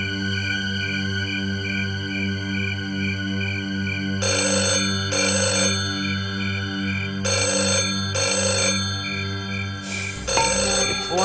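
A telephone ringtone rings loudly and close, its melodic tone repeating in bursts over a steady electronic backing with no voices, from an Indian comedy series.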